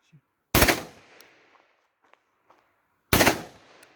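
Two loud shotgun blasts from an Aksa Crossfire .410 bore ring out a few seconds apart outdoors, each a sharp crack with a short decaying tail, separated by near silence.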